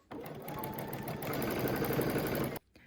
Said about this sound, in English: whenever I quilt on my sewing machine